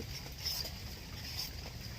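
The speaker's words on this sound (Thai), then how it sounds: "บรรยากาศช่วงนี้ครับฝนกำลังตกปล่อยๆนะครับ" Light rain falls steadily in gloomy weather, a faint, even patter with soft hiss and no voices.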